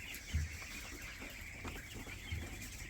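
A brooding turkey hen sitting on eggs clucks softly a couple of times, low and faint, against a steady background hiss.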